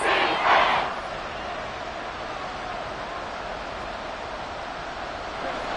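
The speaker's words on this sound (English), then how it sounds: "The Arrowhead crowd in full roar." A stadium crowd at Arrowhead roars in the Madden 24 football video game, a loud hissing surge at first that settles into a steady, broad wash of noise.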